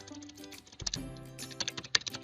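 Keystrokes on a computer keyboard as a single word is typed, a quick run of light clicks that grows denser in the middle, heard up close and quiet with no talking.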